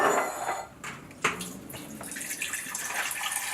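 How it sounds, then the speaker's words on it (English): Water pours from a tap into a cooking pot, a splashing, gurgling stream that shifts in tone as it fills, close by, with light clinks of the pot and no talking. "So we're going to go ahead and add some more water."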